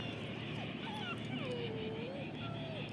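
A dog in severe ill health whimpers in thin, high, drawn-out whines that rise and fall, heard over a steady noisy background hum.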